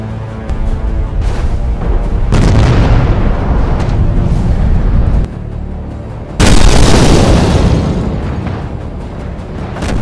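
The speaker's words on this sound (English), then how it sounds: "suddenly, massive explosions happened." Massive video game explosions in BeamNG Drive boom one after another, loud and rumbling, with a fresh deep blast midway that swells and slowly fades.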